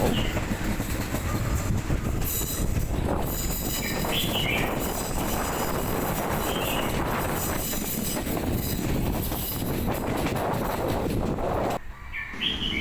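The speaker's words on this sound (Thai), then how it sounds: "นี่คือบรรยากาศบนเขา ช่วงบริเวณก่อนที่รถกำลังเข้าสู่สถานีช่องเขา" A train running through mountain terrain toward a station, with a continuous loud rumble of wheels on rails, some high squealing and faint birdsong, easing briefly near the end.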